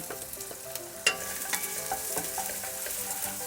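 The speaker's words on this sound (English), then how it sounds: "Now I'm going to add my sliced onion" Sliced onion added to a pan of hot oil after tempering for a coriander chicken curry, a soft steady sizzle with a sharp clatter near the start and light stirring scrapes, close and moderate, no talking.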